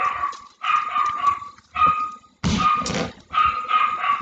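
A neighbour's dog barks repeatedly from nearby, loud bursts of barks and yips with short pauses between, no talk over it.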